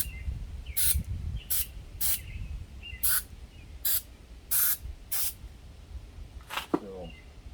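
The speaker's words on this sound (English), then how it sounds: "let's spray some more in there" Lubricant sprayed from an aerosol can onto the springs of a Lectric step-through e-bike, a series of short sharp hissing bursts, about eight in quick succession, close and distinct against a quiet background.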